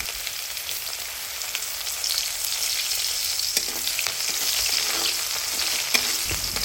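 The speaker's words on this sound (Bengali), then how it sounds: "নেড়ে চেড়ে রসুনগুলো আমরা বাদামি কালার করে ভেজে নিচ্ছি।" Crushed garlic stir-frying in oil with whole spices, browning for a banana flower curry: a steady, dense sizzle close to the pan, with occasional stirring scrapes and pops. No one speaks.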